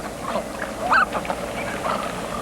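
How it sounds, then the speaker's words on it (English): A canvasback duck, a diving bay duck, gives a brief clear call near the middle over a steady outdoor background hiss, with softer scattered sounds around it. "Typical of the bay ducks, the canvasback dives to 40 feet or more to feed on submerged plants and animals."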